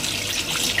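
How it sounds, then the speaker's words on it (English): Cold water gushing steadily from a kitchen tap into a sink, a continuous close hiss with no talking. "turn the cold tap on"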